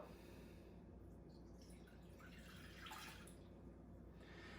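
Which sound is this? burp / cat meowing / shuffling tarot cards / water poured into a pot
water poured into a pot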